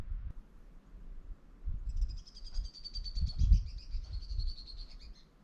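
Small birds calling from desert cliffs in Anza Borrego, a faint, high twittering song running through the second half over low wind and ambient rumble, no voices.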